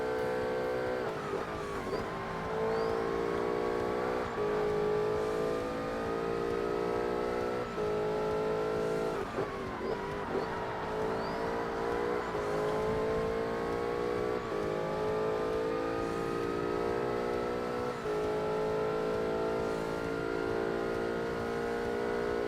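The race car's engine in Forza Motorsport revs hard and continuously for the whole stretch, climbing and dropping with gear shifts as the R-P1 prototype laps the track, loud and steady with no voice over it.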